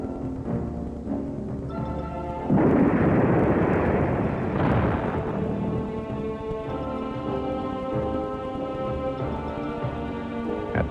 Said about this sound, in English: A ramp and booster rocket were used to start the V-1 on its course.